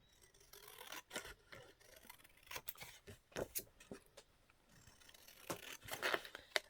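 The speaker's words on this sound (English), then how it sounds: "So I'm just going to hand cut this one and have it done." Scissors snip through paper by hand for a small accordion booklet, a close series of crisp, irregular cuts with brief pauses between bursts, quiet and alone with no talk.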